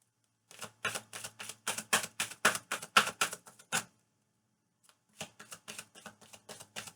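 Rapid rhythmic flicks of cards being riffled, a long burst of crisp snaps, a brief pause, then another run of quick shuffling.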